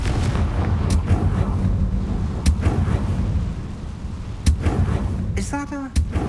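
A Confringo fire spell blasts in the video game Hogwarts Legacy, a loud booming burst over a dense rumbling game soundscape, with sharp cracks scattered through and a whooshing flare near the end.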